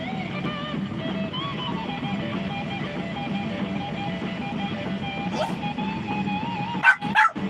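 Several dogs barking and whining near feeding time, a steady layered chorus of yips and howl-like tones, fairly faint and distant, with a couple of louder knocks near the end.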